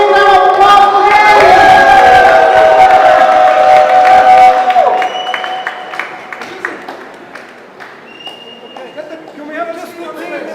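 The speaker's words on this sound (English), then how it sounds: "Big round of applause for him." Loud audience cheering, whooping and applause for the winner at a squash open award function, strong at first with shouting voices, then easing into lighter clapping and crowd chatter.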